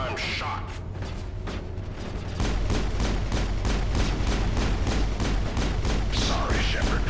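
Gunfire aimed at Shepard in Mass Effect starts after a quieter opening, then becomes a rapid, steady volley of loud, evenly spaced shots that continues to the end.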